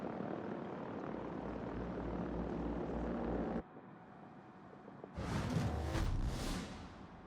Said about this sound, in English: I'm hearing the planes like they're above me.